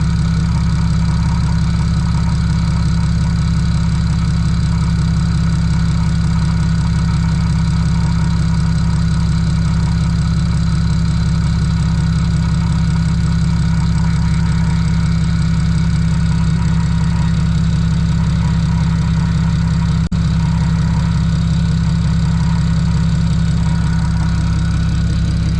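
Single-turbo BMW 335 engine idling steadily after start, a loud, constant low rumble with no revving, close by; no voices.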